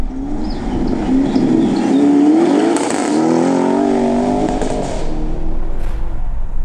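A BMW G82 M4 with an Akrapovic exhaust revs hard up close, its exhaust roaring and rising in pitch through the gears, then easing off with crackles.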